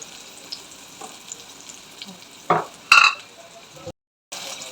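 Small chopped onion frying in a pan for mung dal khichdi, a soft continuous sizzle broken by a few louder stirring scrapes and clinks, then a short silence before the sizzle returns.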